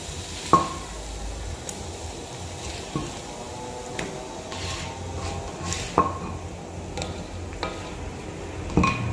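Onion fries in a pan for Indonesian fried rice with a soft, continuous sizzle, broken every second or two by sharp clinks of a utensil scraping and tapping the pan.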